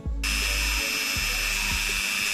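A rotary drill tool with a flexible cable attachment switches on and runs with a high steady whine, with low stuttering motor pulses underneath, close and fairly loud with no talking.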